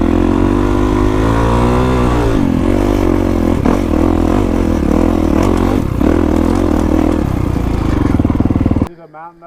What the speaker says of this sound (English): standing up, doing hill climbs on the KX.